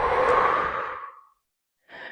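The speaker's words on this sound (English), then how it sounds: "Really breathing it out." One person exhales deeply during an exercise routine, a long, loud, close breath out that fades away, then a short, softer breath after a pause.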